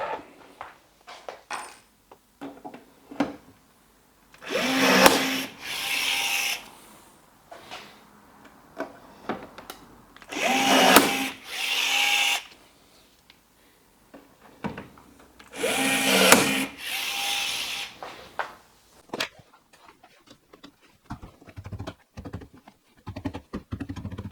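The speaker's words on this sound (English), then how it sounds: "Now I'll do the 6 rivets." A hand rivet tool sets six rivets on an Ultima RS kit car build, heard as three separated bursts of rapid clicking and squeezing mechanical noise between quieter stretches of small handling sounds.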